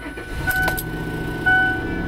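A newly bought used truck starts up close by. There is a short crank and mechanical clicks, then the engine catches and settles into a low, steady idle.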